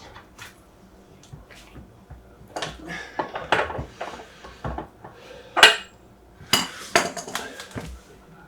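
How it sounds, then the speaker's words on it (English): A motorcycle axle nut on a 2013 Yamaha R6 being tightened with a wrench, giving a series of irregular metallic clinks, ratchet clicks and sharper knocks at close range with no talk over them. "And then I'll tighten the axle nut."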